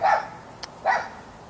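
A dog gives two loud, close barks about a second apart, with a brief click between them and quiet background.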